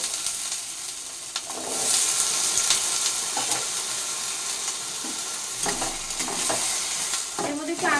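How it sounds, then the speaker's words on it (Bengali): Small diced potato pieces fry in hot oil in a home kitchen pan, giving a steady close sizzle with occasional scraping stirs and clinks toward the end. "আলুটা আগে ভালো করে একটু ফ্রাই করে নেব"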